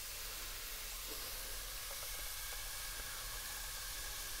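Onions and garlic sautéing in oil inside a Lodge cast iron Dutch oven, a steady broadband sizzle and hiss with faint scattered pops, close and continuous.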